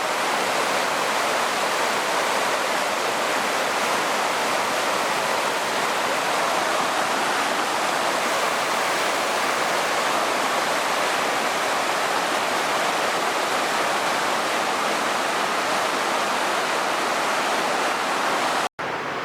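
A river near Banff rushes and churns over rapids in a constant, loud, broadband roar that holds steady and close with no voices.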